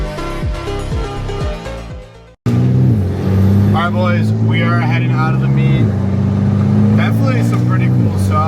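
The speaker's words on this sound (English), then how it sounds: "some morons revving in OD in there." Loud, close car engines revving at a supercar meet, with sustained low droning and rising pitch sweeps, as people talk nearby and an engine changes pitch.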